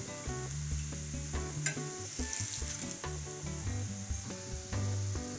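A besan pancake frying in a pan as oil is poured around its edges over raised heat, giving a steady hissing sizzle with light crackles and occasional scraping, close but fairly quiet, no talk.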